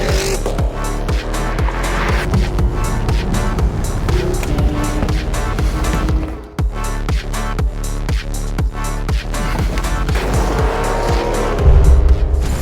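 Powerful cars roar at full throttle in a drag race and roll-on runs among an AMG GLS63, Cadillac Escalade-V, C8 Corvette and AMG SL63 on Continental tires, with loud sustained engine noise, tire squeal and a brief dip midway.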